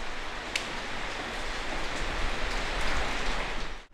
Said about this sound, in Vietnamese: Nghe trời mưa to quá, khổ thân gấu.